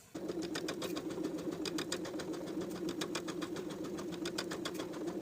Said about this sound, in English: pin them together and sew with a sewing machine, edge stitching close to the open edges